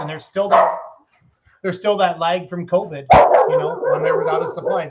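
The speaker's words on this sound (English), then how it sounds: "That's my dog, Logan." A farm dog named Logan barks in several sharp, loud yips near the microphone, mixed in with someone talking outdoors.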